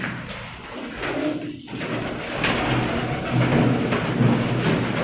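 Breeder pigeons belonging to Ata Mohammad coo softly and repeatedly over a hissing, rain-like background, with faint talk nearby.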